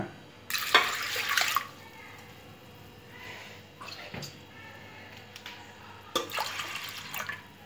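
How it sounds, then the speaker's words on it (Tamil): About one and a half tumblers of water splash and trickle into a cooking pot with turmeric for radish sambar, in a few short bursts, moderately loud and close, with quiet gaps between pours. "இப்போ இதில் ஒன்றரை டம்ளர் தண்ணி ஊற்றிக்கோங்க"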